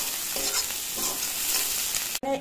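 Three chopped green chilies frying in hot oil, a close, crackling sizzle with repeated stirring scrapes, ending in a sharp clatter near the close.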